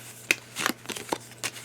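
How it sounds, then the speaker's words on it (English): Tarot-style cards being shuffled by hand, a handful of sharp, quick riffling snaps spaced irregularly, close and fairly crisp against a quiet room. "I really try and shuffle them up to the point where I can't remember which one's which"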